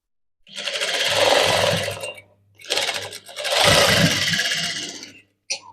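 A sewing machine runs in two long, steady bursts while stitching a maggam work embroidered blouse, its motor whirring loudly and close up with a brief pause between runs and a short click at the end.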